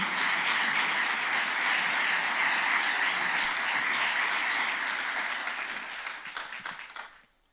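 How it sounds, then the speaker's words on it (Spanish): Spanish-speaking church congregation applauding, a loud, dense wall of clapping that holds steady and then thins out and fades to silence at the end. "Denle un aplauso al Señor."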